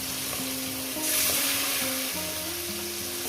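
Large chicken pieces dropped one by one into hot oil with cumin powder over a high gas flame for chicken curry, giving a steady, close frying sizzle with a brief louder hiss and faint tonal hum underneath, no talking.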